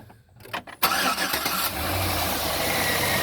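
A Chevy 5.3 V8 cranks briefly and catches, then settles into a steady, loud idle after an intake manifold PCV elbow repair, recorded up close with no voices.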